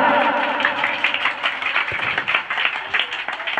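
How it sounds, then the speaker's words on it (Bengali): An audience applauds the organising youth club at a kirtan gathering. The clapping is dense and continuous, with a crowd murmur under it, and holds steady for a few seconds. "তাই আমি ইয়ংস্টার ক্লাবের কর্মকর্তা বন্ধুদের জন্য একটা জোরে হাততালি হয়ে যাক।"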